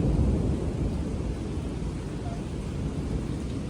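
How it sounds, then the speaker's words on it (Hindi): Heavy rain pours down steadily during a sudden thunderstorm, a dense, loud roar with deep rumbling underneath and no voices. "इतनी तेज़ बारिश आ रही है और बिजली इतनी तेज़ कड़क रही है ना"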